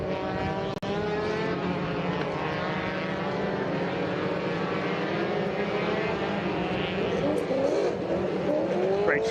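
A Honda Civic Type R pace car accelerates out of a corner at Carolina Motorsports Park, its engine note rising and sweeping in a steady drone, blended with other race cars and a broad roar from the track.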